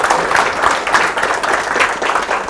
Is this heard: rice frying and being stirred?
no